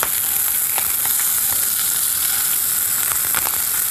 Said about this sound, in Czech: ten buček opečeme na pánvi